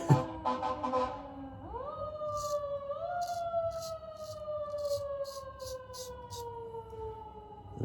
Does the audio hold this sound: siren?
yes